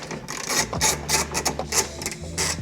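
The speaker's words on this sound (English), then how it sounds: "I'm using about a 6-inch extension on here, and we're gonna back that out." A socket ratchet on a roughly 6-inch extension backing out a 10mm bolt on a Honda Acty, giving a steady run of quick, close clicking strokes with brief pauses between pulls.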